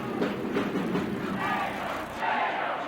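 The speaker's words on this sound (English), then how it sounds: "Oh, Galen Nagel's getting the cheer now." Arena crowd cheering loudly and continuously for a player at a 1984 college hockey championship game, a dense roar of many voices with a brief dip near the end before swelling again.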